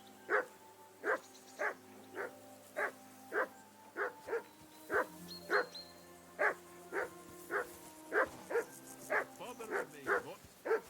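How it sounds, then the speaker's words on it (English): Dog barking in the video game Kingdom Come: Deliverance II, a steady run of about twenty evenly spaced, fairly loud barks over faint background game ambience. "I assume you can hear that damn dog of yours barking."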